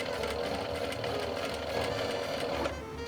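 A Juki sewing machine stitches with a zipper foot, giving a steady, fast, close mechanical whir with a rhythmic needle clatter. It runs alone and without a break.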